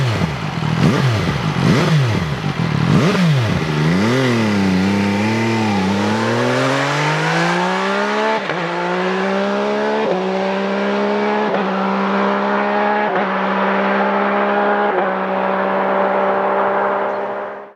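An MV Agusta Dragster RR motorcycle pulls away and accelerates hard through several gear changes, its engine note climbing and dropping with each shift, then settling into a steady high cruising drone, loud and close.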